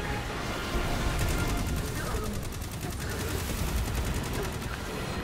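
Rapid auto rifle fire in Destiny 2 chatters in a fast, even stream of shots over a dense, busy background, continuous and fairly close throughout.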